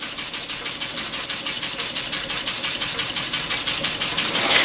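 A model steam engine, restored from poor condition, runs steadily on its own with a fast, even chuffing beat that grows slightly louder toward the end.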